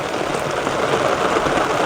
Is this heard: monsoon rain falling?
yes